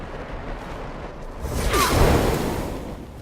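Searing Daggers spell cast in Divinity 2: a rising whoosh swelling to a broad swishing burst with a faint metallic ring, then fading, single and close, no talk.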